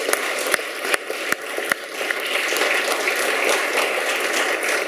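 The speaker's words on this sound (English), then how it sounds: "give yourself a round of applause" A crowd at a United Nations Day awards dinner applauding, with a few sharp claps standing out at first before settling into steady, sustained clapping throughout.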